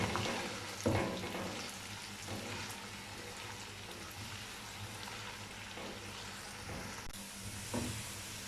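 Chopped onions fry in hot oil until light golden for a dhaba-style chana dal fry, giving a steady broadband sizzle and hiss with a few louder stirring scrapes, close up and without talk.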